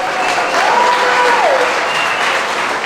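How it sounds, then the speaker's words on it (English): Audience applause at a retirement party, steady broadband clapping filling the whole stretch, loud and continuous, with a faint whistle-like tone rising and falling partway through. "Let's give him a round of applause."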